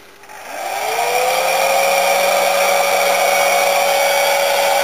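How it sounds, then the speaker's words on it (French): A hair dryer spins up on its second, hotter speed setting and settles into a loud, steady whine with a rising pitch at first, running close and alone. "après j'ai la deuxième vitesse forcément sur le sèche-cheveux où on a une chaleur un peu plus conséquente"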